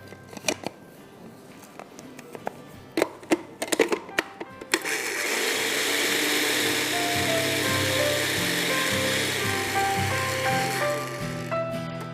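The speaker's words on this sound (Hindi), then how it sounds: "इसको आपने पीसना है, पाउडर फॉर्म में करना है। तो मैं आधा आधा कर दूँगी, छोटा ग्राइंडर है।" A small electric grinder whirs steadily as it powders oats, its motor drone filling the second half, after several sharp clicks and knocks from loading and closing the jar.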